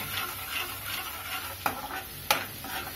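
Garlic and ginger fry in a pan for pav bhaji, a faint steady sizzle with soft stirring scrapes and two brief metallic taps of the spoon against the pan.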